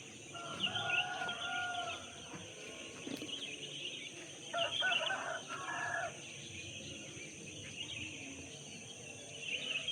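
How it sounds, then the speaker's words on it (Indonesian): A rooster crows a few times at a distance from above a house in the early morning around 5:20, over steady background hiss and faint ambient noise, with no speech. "Ayame Om Tur berkokok karena suaranya tuh dari atas rumah"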